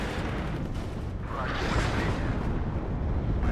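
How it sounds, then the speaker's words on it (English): Rocket artillery explosions in WARNO, a dense, continuous roar of blasts and booming rumble under fire, loud and sustained throughout with no distinct gaps, no talk. "as the rocket artillery flies overhead, and that's a scary place to be"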